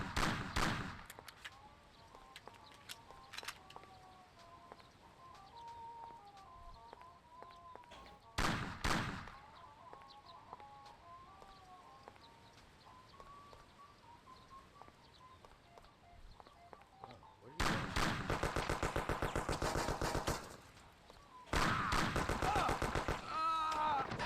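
Gunfire in Mafia: The City of Lost Heaven, in two phases: a few sharp isolated shots over a quiet bed, then two dense, loud bursts of rapid automatic fire near the end.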